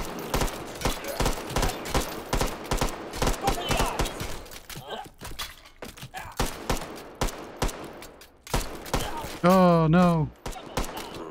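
Rapid volleys of gunfire crackle from NPC-driven hot dog soldiers in the VR game Hot Dogs, Horseshoes & Hand Grenades, with dense repeated shots throughout and someone talking over them.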